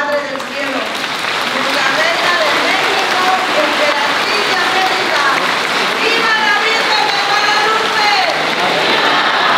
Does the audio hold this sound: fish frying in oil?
no